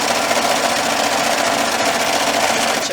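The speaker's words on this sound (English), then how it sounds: "I'm just going to put it on my sewing machine" Sewing machine stitching a fabric slipper closed, a steady, loud mechanical whir with rapid needle chatter running continuously and close up, with no talking.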